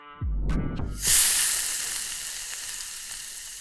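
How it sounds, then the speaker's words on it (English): A low thud and brief clatter, then a loud burst of sizzling as steak hits a hot pan, settling into a steady crackling hiss, AI-generated. "the sound of a steak sizzling in a hot pan"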